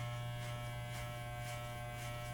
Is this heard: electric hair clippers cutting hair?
yes